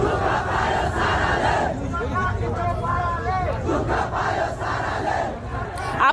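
Large protest crowd in Nepal being dispersed with tear gas, a dense, loud roar of shouting and yelling voices sustained throughout, with individual cries rising above the din.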